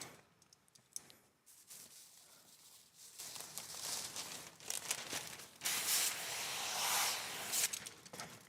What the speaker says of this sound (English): We're gonna rinse that down a little bit, pull out our liner, and then flush this out a little bit more